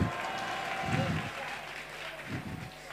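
A crowd at a Kali puja festival gathering claps loudly for the puja committee, sustained applause with bursts of cheering, while an anchor's voice carries over a loudspeaker.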